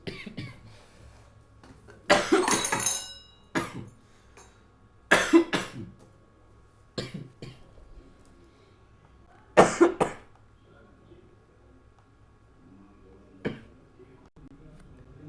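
Several bursts of coughing, some in quick doubled fits, spaced across the stretch, with quiet talking and room noise between them.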